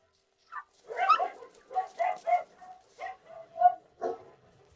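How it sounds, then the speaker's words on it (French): Small Pomeranian dogs at a kennel yap and bark in a quick, uneven series of about nine sharp, high barks, close and clear against a quiet background. "Ici, la mer d'aboiement se poursuit toute la journée."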